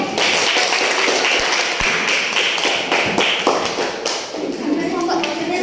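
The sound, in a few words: classroom students clapping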